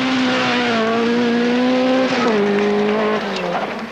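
A Triumph rally car pulls away hard on a 1979 Manx Rally stage, its engine note loud and close, rising and falling through the gears as it drives past.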